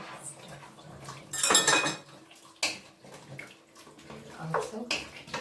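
A spoon stirs beef stock and tomato puree in a pot for an Irish beef stew, giving a few close metallic clinks and scrapes that come in short bursts with quieter gaps.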